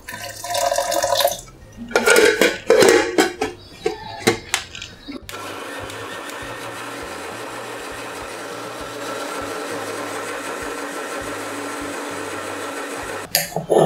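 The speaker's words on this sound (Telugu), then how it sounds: "ఇదంతా మొత్తం చక్కగా కలుపుకొని కొద్దిగా వాటర్ వేసి మెత్తగా మిక్సీ వేసుకోవాలి." A mixer grinder whirs steadily for about eight seconds as it grinds soaked lentils with a little water into dosa batter, after loud clattering and splashing while it is loaded, then stops abruptly.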